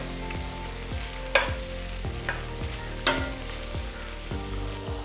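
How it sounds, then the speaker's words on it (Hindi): Okra cooking on one half of a pan while paneer fries on the other, giving a soft continuous sizzle with periodic spatula scrapes and a few sharper stirring taps, close and without talk. "आधे पैन पे मैंने भिंडी बन रही है, और आधे पैन पे मैं पनीर को फ्राई कर रहा हूँ।"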